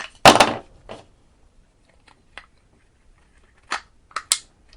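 A plastic mounting disc on a solar WiFi security camera snaps into place with one loud sharp click near the start, followed by several fainter clicks and taps spread out afterwards.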